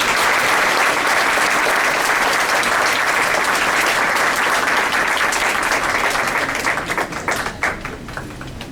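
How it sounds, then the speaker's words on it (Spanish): Audience at a lecture on domestic violence gives a speaker a strong round of applause, loud dense clapping that holds steady, then thins into scattered individual claps as it fades. "la despedimos con un fuerte aplauso"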